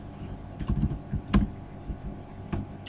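Code typed on a computer keyboard, a loose run of close key clicks with one louder clack, irregular pauses between bursts.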